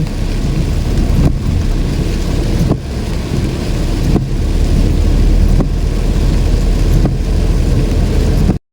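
Steady, heavy rain in Roi Et Province, Thailand, roars without a break, a dense wash of noise with a low rumble underneath and a few brief louder bursts.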